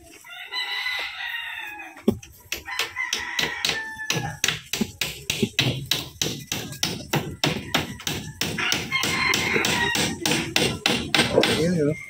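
Hammer blows drive nails into a window frame, a long run of sharp, rhythmic knocks up close, with a rooster crowing and clucking nearby and some talk in the background.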